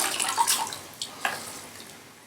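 An aquarium filter sponge from a Fluval Spec tank is squeezed in rinse water, giving brief wet squelches and splashy trickles of water close by, with no talking.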